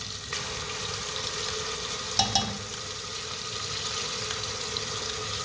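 Spices, ground turmeric, chili, ginger, garlic, cumin and bay leaf powder, cooking with fried onion and tomato in a pan, giving a steady close hiss of sizzling oil with a couple of brief stirring knocks.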